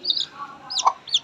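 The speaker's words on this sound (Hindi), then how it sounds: "मुर्गी के बच्चे बहुत चिल्ला रहे हैं" Young chicks chirping loudly, with a few shrill, high cheeps in quick succession close by and a faint voice underneath.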